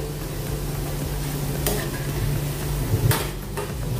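Corn fritters frying in hot oil in a pan as they are turned, a steady close sizzle with scraping stirs and a couple of brief clinks of utensil against the pan.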